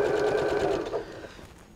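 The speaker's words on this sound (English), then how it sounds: "it's sewing much smoother now" A sewing machine stitching quilt binding, a fast close buzzing whir that runs steadily and then slows and fades out near the end, without talk.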